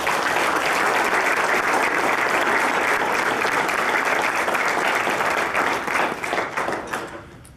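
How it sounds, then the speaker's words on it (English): Sustained applause from an audience at an athletics hall of fame induction ceremony fills the hall, loud and steady before tapering off to scattered claps at the end. "So if you could give him a round of applause."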